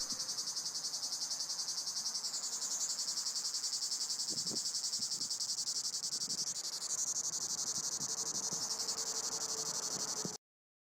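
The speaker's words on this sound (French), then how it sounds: "C'est vraiment un mec qui a zoomé sur une cigale." A cicada chirps in a steady, continuous high-pitched buzzing drone that pulses rapidly and holds for about ten seconds before stopping abruptly. It is heard alone, loud and close.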